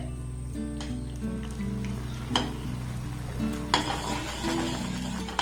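Thick milk custard pudding bubbles and sizzles softly in a pan over a low gas flame while a spoon stirs it, with faint scraping against the pan and occasional light taps, steady and close.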